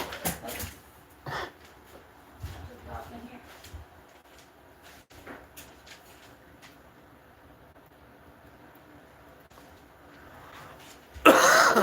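Someone with a lingering flu cough gives scattered coughs and throat clearing among quiet indoor sounds and soft talk, ending in a louder burst.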